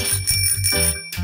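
A cartoon bell rings in quick repeated dings, bright and loud, several strikes in a steady rhythm ending with a final ring.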